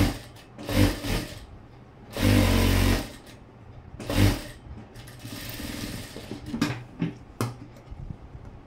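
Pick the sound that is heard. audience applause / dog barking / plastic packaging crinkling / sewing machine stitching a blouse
sewing machine stitching a blouse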